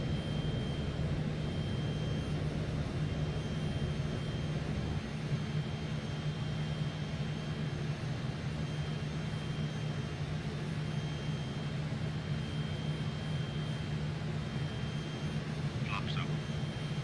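A Fokker F28 jet climbs after takeoff in Microsoft Flight Simulator, its engines making a steady, even drone that holds throughout with voices over it.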